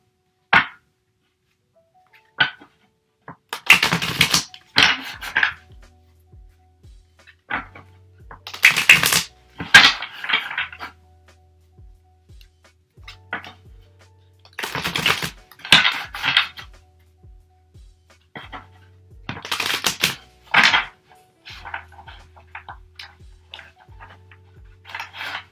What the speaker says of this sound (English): I'm having a hard time shuffling them right now